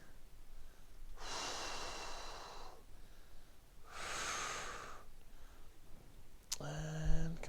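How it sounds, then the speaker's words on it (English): Slow, deep breaths during a live-streamed yoga session, two long airy exhales at moderate volume followed by a short voiced sound at the end. "Good. Breathing."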